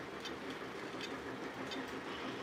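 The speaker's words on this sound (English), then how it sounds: "this is the Lionel Legacy Union Railroad switcher" Lionel Legacy Union Railroad switcher model train running on its track, a steady close whirring rumble with light rhythmic wheel clatter throughout, no talking.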